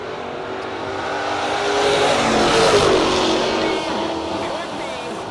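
The Buchanan Brothers Mustang drag car accelerates at a no-box drag racing event, a loud engine roar that swells to a peak midway and then eases off, with an announcer talking over it.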